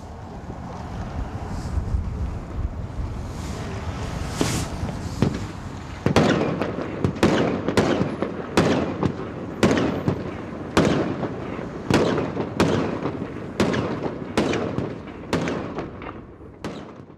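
Fireworks set off in daylight at New Year's Eve boom and crackle in a steady series of sharp, loud bursts at regular intervals, over a background of wind rumble.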